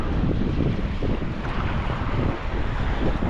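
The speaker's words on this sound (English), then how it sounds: "Yeah, this wind." Steady wind roaring across open water on John's Bay near Pemaquid Point, Maine, heard from a kayak with constant buffeting gusts on the microphone and a rough wash of waves underneath.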